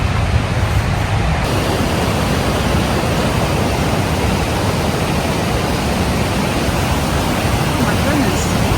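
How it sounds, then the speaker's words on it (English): Crazy Creek Falls along the Beartooth Highway in mid-June runs high, a loud, constant broadband rush of water close by that fills the whole scene without a break. "this is supposedly a little trail to Crazy Creek Falls"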